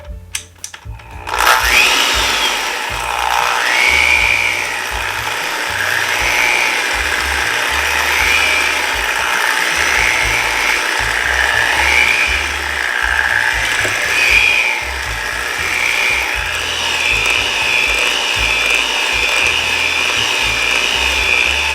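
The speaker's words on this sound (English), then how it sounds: "I just have to beat this till it's well mixed with my electric mixer" Electric mixer beating pumpkin cheesecake batter in a bowl, a loud, steady whirring drone with a rattling edge that runs continuously after a brief start, without talking.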